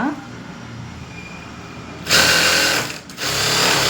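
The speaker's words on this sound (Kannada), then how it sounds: "ಈಗ ಒಂದು ಇಂಚಷ್ಟು ನಾವು ಫೋಲ್ಡಿಂಗ್ ಮಾಡ್ಕೊಂಡು ಸ್ಟಿಚಿಂಗ್ ಹಾಕ್ಕೊಳ್ಳೋಣ" Sewing machine stitching a folded one-inch fabric hem, starting after a quiet stretch into a loud, steady high-pitched mechanical whir that pauses briefly and resumes, close up, with a voice present.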